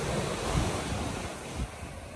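Sea waves wash continuously onto the shore at a windy seaside with windmills nearby, a steady broadband surf roar with a couple of swelling surges, heavy wind buffeting the microphone throughout.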